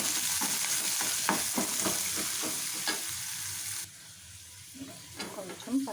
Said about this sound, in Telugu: పచ్చనగపప్పు, ఇది కొంచెం వేగనివ్వండి